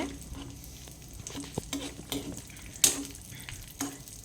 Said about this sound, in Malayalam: നെയ്യ് ചൂടായിട്ടുണ്ട് ഇനി നമുക്ക് കശുവണ്ടി പരിപ്പ് ഇട്ട് കൊടുക്കാം